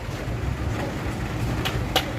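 Rain falls at a pier on a wet Saturday, a steady broadband hiss that stays close and even throughout, with a couple of brief louder splashes.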